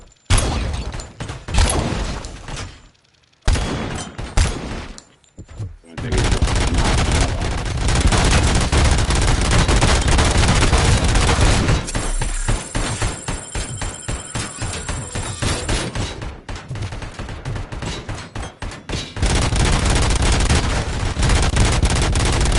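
Gunfire in the game RoboCop: Rogue City rattles in long loud volleys and dense rapid bursts, broken by a few brief silences, with a steady heavy roar running underneath.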